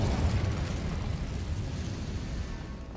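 Confringo fire spell exploding in the Hogwarts Legacy video game, a dense low rumbling blast that fills the moment and slowly fades, loud and close with no talk over it.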